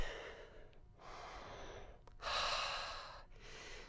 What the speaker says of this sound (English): Inhale, exhale, and hold for 15. And breathe.